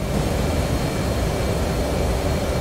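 Aircraft engine in the DCS World flight simulator during a search and rescue mission, a steady broadband roar that holds loud and even throughout with no talk.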